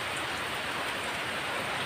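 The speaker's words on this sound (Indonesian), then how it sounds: "Apalagi cuacanya ini sedang hujan." Rain falling steadily in a constant, even hiss of drops on surfaces, moderately close and uninterrupted, with no talk.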